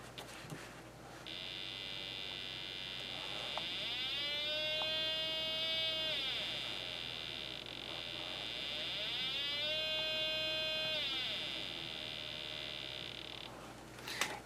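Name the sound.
Snap Circuits oscillator circuit tone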